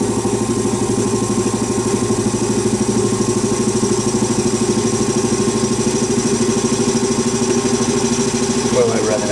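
A lathe spins at 800 RPM, giving a steady mechanical hum with a fine, regular vibration throughout and a brief scrape near the end.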